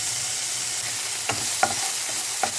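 Ginger, garlic and green chili sauté in ghee with a bright continuous sizzle, punctuated by three or four sharp spoon-stirring knocks, close and loud.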